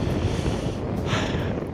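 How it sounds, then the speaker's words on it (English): Strong wind gusts across a Scottish hillside in Glencoe, a steady loud roar buffeting the microphone with a sharper surge near the middle; no voices. "it is so windy"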